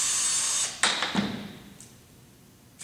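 A power drill whirs steadily and close, then stops as screws come loose and a lacrosse stick head is taken off its shaft, followed by brief handling clatter and a short burst at the end.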